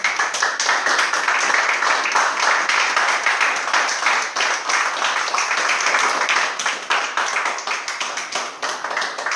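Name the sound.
congregation applause in church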